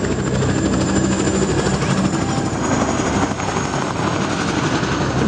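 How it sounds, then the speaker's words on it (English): Steady, loud thumping rotor and engine roar of military helicopters overhead heading to Koh Tang island, constant throughout with no voices. "The 8 remaining helicopters head straight for Koh Tang."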